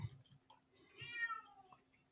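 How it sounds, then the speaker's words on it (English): A cat meows, a wavering, drawn-out cry of moderate loudness indoors, with a few softer thumps and rustles before it. "please excuse the crazy cat"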